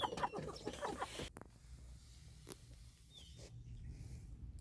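A hen clucks in a quick burst of short, close calls, then fades into quiet rustling and faint room noise.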